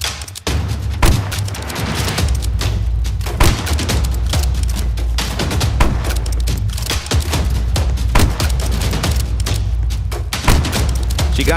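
Rapid gunfire rings out in the Roblox game 99 Nights in the Forest as cultists are shot down, dense repeated shots and thuds in continuous bursts with no voices.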